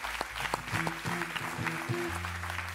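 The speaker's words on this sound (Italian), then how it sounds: "Un applauso a Roberto, alla sua imitazione di Roberto." Studio audience applause on an Italian live television show, a short, fairly quiet burst of clapping with music tones underneath.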